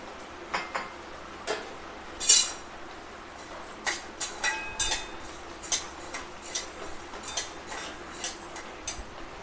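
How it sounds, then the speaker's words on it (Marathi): Sago and barnyard millet dry-roast in a kadai on a gas stove, giving a run of light scattered clinks and scrapes of a utensil against the pan that are fairly quiet and irregular, with no talk. "आता बघा, हे साबुदाणे आणि वरई भाजून घ्यायची।"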